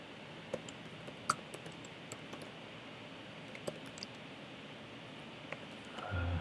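Faint, scattered clicks of typing on a computer keyboard sound against a quiet hiss, in irregular light taps with a soft rustle near the end.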